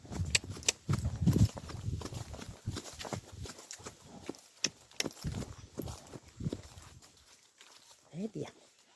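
A Lusitano horse walks outdoors, hooves clip-clopping in an uneven sequence of knocks while someone talks encouragingly throughout.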